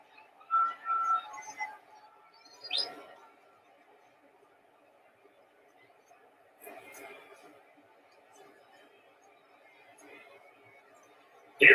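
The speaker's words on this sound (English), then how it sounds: "Now whistles and a timeout with 3 seconds left in the first half." Referee's whistle at an NFL game between the Lions and Falcons, calling a timeout with seconds left in the first half, shrills in short bursts over a low stadium crowd murmur.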